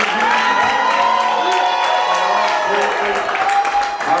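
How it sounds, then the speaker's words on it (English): A crowd at a holiday wealth summit seminar claps and cheers for a few seconds, with shouts and whoops rising above steady applause. "Give a round of applause one more time."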